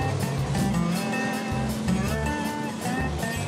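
A 4x4 off-road vehicle's engine accelerating up a sand dune, a steady revving drone with rising and falling pitch, close and loud, with no clear talk.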